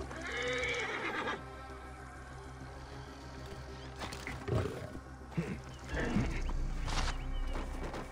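A horse gives a loud, shrill whinny at the start, then gets quieter with snorts, hoof clatter and movement noises close by.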